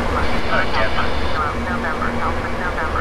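Boeing 777 engine noise in the PMDG flight simulator, a steady low roar and whine running continuously while a voice talks over it.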